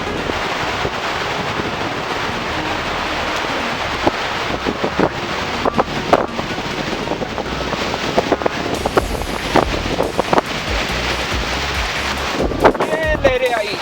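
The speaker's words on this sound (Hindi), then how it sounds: "ये लहरें आई।" Ocean waves wash in at Umbergaon beach under gusty wind, a broad continuous roar and hiss with buffeting bumps; a voice speaks faintly over it.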